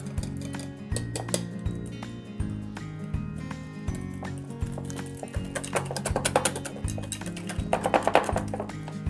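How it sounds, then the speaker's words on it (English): A whisk beats almond flour and sweetener in a bowl for keto pancake batter, making a quick, regular clatter of rapid tapping strokes, close and steady throughout, with no one talking. "we're gonna add the almond flour, the sweetener, and I'm gonna whisk it"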